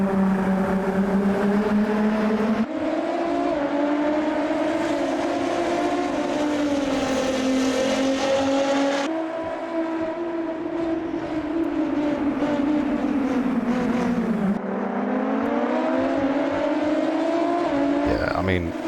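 Sprint car race in Automobilista 2, set in Brazil: loud droning engines hold steady, rising and falling pitch as the field runs in a close pack, with a commentator talking over the constant roar.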